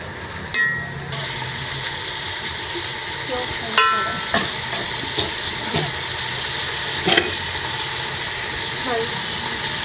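Mutton pieces sautéing for mutton chana give a steady sizzle, with a few sharp clinks and scrapes as a spoon stirs the pan every second or so.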